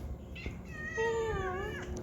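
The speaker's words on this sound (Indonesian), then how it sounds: "mengeong-ngeong, dia mungkin mengatakan minta makan ya guys ya" A cat meows once, a drawn-out rising and falling cry, close by over faint background hum.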